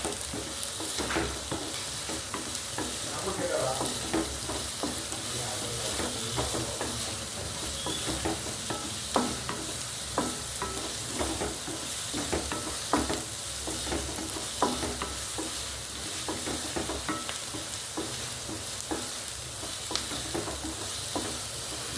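Sliced onions sizzling and frying in a pan for a lentil curry to go with puttu, a steady close crackle broken by repeated stirring scrapes, with no talk.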